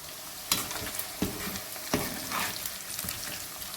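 Cauliflower and potato fry in oil with a constant close sizzle, punctuated by several sharp stirring clanks of a spoon against the pan, no talking.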